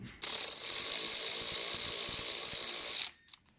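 Continuous ratcheting on the front bolt of a 2018 Yamaha R6 during a spark plug change, a steady close clicking buzz lasting about three seconds and then stopping.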